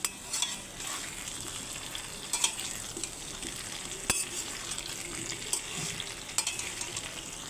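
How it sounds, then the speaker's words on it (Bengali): Potatoes fry in hot oil in a pan for mutton curry, giving a steady, moderately loud sizzle with a few sharp clinks and stirring scrapes along the way. "এই হচ্ছে মটন রান্নার জন্য আমি আলুগুলোকে ভেজে নিচ্ছি এখন"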